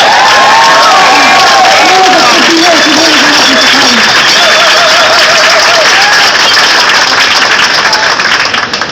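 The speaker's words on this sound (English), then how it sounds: "applause for Colin McCann" Loud, dense audience applause with some cheering and voices at a Bloomsday performance in a folk house, filling the whole stretch at close range.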